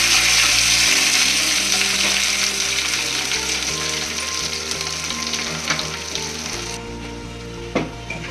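Masala frying in a pan for dhaba-style paneer butter masala curry, a loud, continuous close sizzle with occasional stirring scrapes and clinks throughout.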